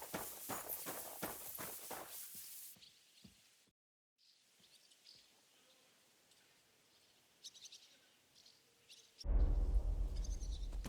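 Horse hooves clip-clop in Kingdom Come Deliverance II, a quick run of hoofbeats at the start that fades off, followed by chirping birds and a sudden loud burst of noise at the end.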